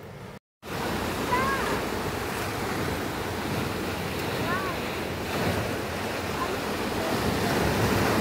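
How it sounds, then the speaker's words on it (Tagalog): Strong surf roars continuously along the shore, mixed with gusty wind buffeting the microphone, with faint distant chirps barely audible beneath. "Medyo malakas yung alon mga idol."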